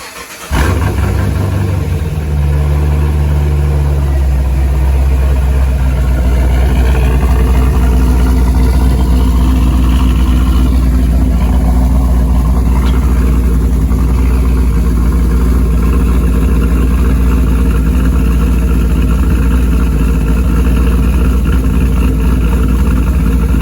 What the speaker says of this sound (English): The car is pretty loud.